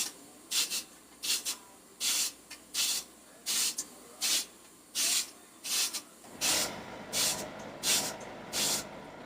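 Half a zucchini being spiralized into noodles with a hand-held zucchini noodle cutter, heard as about a dozen short rhythmic rasping scrapes, close and fairly loud, with a slightly fuller background in the last few seconds.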